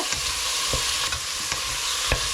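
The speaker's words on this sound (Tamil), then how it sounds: "சின்ன வெங்காயம், தக்காளி பழம், இந்த பச்சை மிளகாய் எல்லாம் வந்து சேர்ந்து அப்படியே இந்த ஆயிலில் வந்து குக் ஆகுது பாருங்க" Small onions, two large tomatoes and green chillies fry in oil, a steady close sizzle broken by a few sharp stirring scrapes, with no voices.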